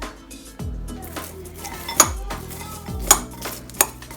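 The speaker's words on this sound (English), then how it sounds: "I'm gonna give it a stir" Hot microwave-roasted peanuts are stirred in a dish, loose nuts rattling and shifting with several sharp clinks of the utensil against the dish, close and clear with no talk.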